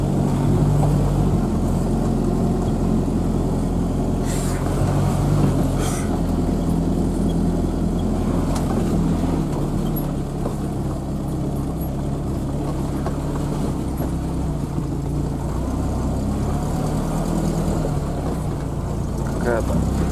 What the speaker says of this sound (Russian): Какая-то машина тоже поднялась, видимо. Нива, наверное, проехала тут.